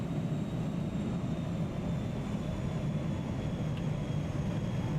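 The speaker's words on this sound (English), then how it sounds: "There's a plane?" An airplane in the Powerwash Simulator video game drones as a steady, broad low roar, loud and unbroken with no other sounds.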